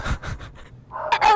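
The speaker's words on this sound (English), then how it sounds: "Is he barking at me?" A dog pants close by in a short burst of quick, rhythmic breaths, with a brief pause before the panting resumes more strongly.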